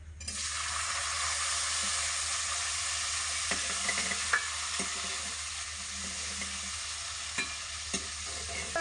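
Chopped tomatoes hit a hot pan of browned cumin seeds and sizzle loudly and steadily, with a few clinks and scrapes of stirring and no talking.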